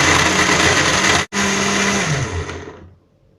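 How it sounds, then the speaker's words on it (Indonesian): A kitchen blender grinds candlenuts with water in a loud, steady whir that cuts out for a moment, restarts, then winds down to a stop. "Masukkan kemiri ke dalam blender dan tambahkan air secukupnya"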